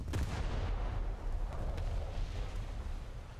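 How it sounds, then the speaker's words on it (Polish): Artillery shells firing and exploding in the video game War Thunder, a dense run of booming blasts and crackling impacts under steady rumble, loud and continuous without talk. "Nie, bo to lecą pociski"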